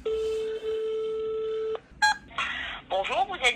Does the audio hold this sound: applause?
no